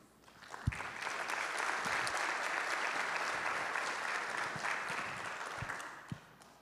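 A church congregation applauds at a Sunday morning service, a sustained burst of clapping that swells quickly, holds steady and fades after several seconds, with a few louder thumps near the start and end.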